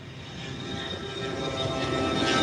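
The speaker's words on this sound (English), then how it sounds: "So here's this Gulfstream 5 tunneling down the runway," A Gulfstream 5 business jet rolls down the runway on takeoff, its engines giving a steady, loud broadband roar that swells gradually with no talk over it.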